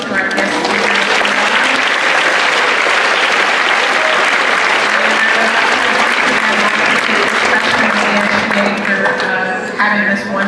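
An audience gives a guest speaker, Jeff Yalden, a sustained round of applause at a school SGA spring event, with dense, loud clapping filling the whole stretch and a few voices mixed in.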